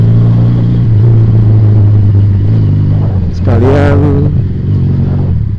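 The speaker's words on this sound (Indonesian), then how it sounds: "Siang-siang bolong gua naik motor cruiser." A Regal Raptor Cruiser 350cc motorcycle engine drones steadily and loudly while riding at midday, a constant low rumble with a tonal rise near the middle, and someone talks over it.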